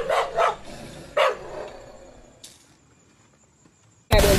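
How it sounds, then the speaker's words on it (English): A big dog kept in a stall barks several times, two quick barks then another, fairly close, with pauses of quiet background between and a loud burst at the end. "Have that big fucking dog in the stall."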